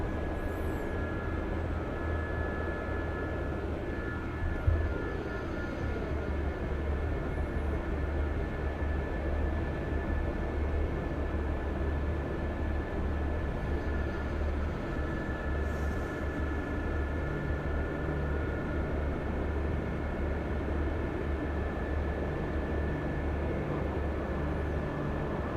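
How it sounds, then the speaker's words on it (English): A Gazelle helicopter in a video game holds a steady, droning engine and rotor hum, constant and fairly loud, with a faint high tonal whine running throughout and no voices. "Now we're gonna do a quick little run in the Gazelle just to finish the warm-up"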